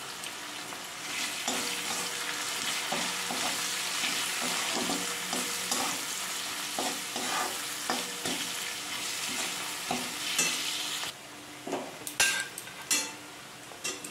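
Onions frying lightly in a pan for masala dosa filling, a steady sizzle and hiss with repeated scraping and stirring clinks of a utensil against the pan, close and continuous, briefly quieter near the end.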